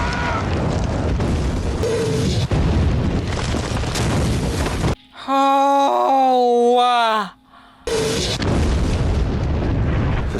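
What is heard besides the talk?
bomb explosions in the war series Band of Brothers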